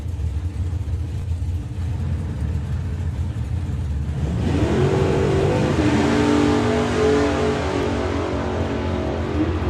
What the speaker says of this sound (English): Big old throttle stop for Stu.